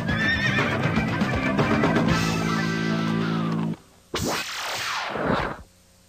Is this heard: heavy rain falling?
no